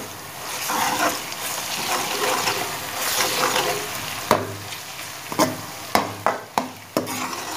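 Garlic paste stirred into onions frying in a pan for masoor dal, giving a steady sizzle with scraping strokes, then several sharp spoon knocks against the pan near the end; no voices.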